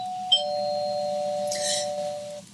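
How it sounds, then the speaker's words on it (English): Doorbell-style ding-dong chime signalling the start of a breathwork exercise: a bright two-tone electronic chime, a sustained tone with a second higher ring partway through, clear and alone over a faint low hum. "This ding dong just simply means that we're beginning an exercise."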